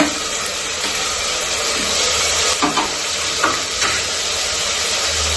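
Steady sizzling hiss of chopped tomato going into softened onions frying in a pan for Mangalore-style chicken saaru, with a few stirring scrapes breaking through the continuous frying noise.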